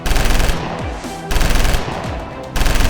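Machine gun fire from a Bren gun carrier, used as a sound effect in a Bolt Action tabletop wargame battle: three loud, close, rapid bursts, each about a second long and separated by brief gaps.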